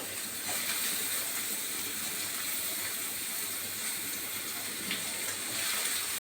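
Carrots, potatoes and capsicum sizzle in hot oil, a constant crackling hiss with occasional louder pops, steady throughout.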